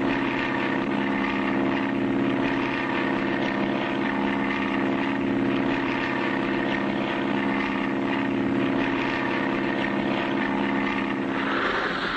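A bush pilot's propeller plane droning loudly and steadily as it takes off, a constant engine hum with no voices, the tone shifting slightly at the very end.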